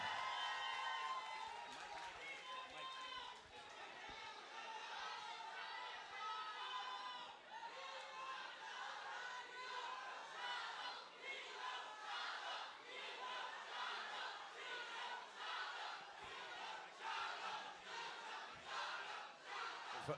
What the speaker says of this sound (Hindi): एक बार जोरदार ताली हो चाहिए पीछे तक गाइस